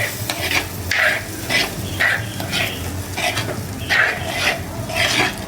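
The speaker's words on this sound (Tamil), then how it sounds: "போட்டுட்டு இந்த மசாலாவோட பச்சை வாசனை போகிற வரைக்கும் நல்லா கிண்டிடலாம்." Masala frying in a pan for prawn ball curry, stirred with rhythmic scrapes about every half second over a constant loud sizzle, close up with no talking.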